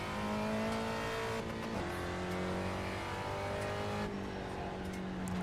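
A Mazda MX-5 circling the Summit Point race track, its engine holding a steady drone that drops as the driver shifts twice, with a faint whine and some tyre noise.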